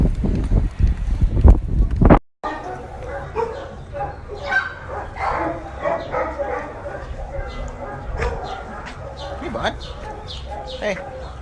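Several dogs bark and yip in a busy, echoing animal shelter, with voices talking and a brief cut partway through.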